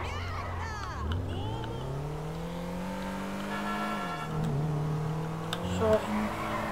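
A modded car engine in GTA 5 drones steadily, its pitch rising and falling as it accelerates and shifts. A brief sharper sound rises near the end.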